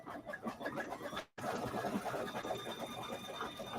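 An embroidery machine stitches a turkey trivet design with a quiet, rapid, even needle chatter that breaks off for a brief instant midway, then resumes at the same pace.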